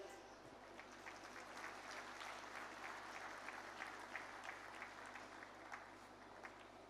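Audience at the Global Maritime India Summit 2023 claps together in a broad, steady wash of applause, heard faint and distant over a low hum.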